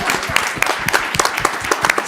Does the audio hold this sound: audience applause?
yes